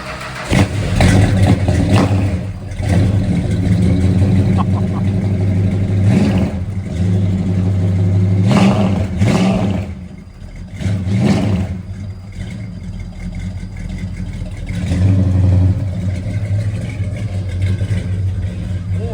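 A 1967 Dodge Coronet R/T big-block V8 runs loud and close, its deep rumble swelling through several hard revs before settling back to a lumpy idle between blips.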